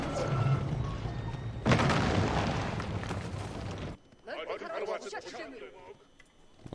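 Cannon towers fire in an Age of Empires IV battle, a dense stretch of booming, crackling blasts and rumble that later drops to scattered smaller impacts, with someone talking over the action.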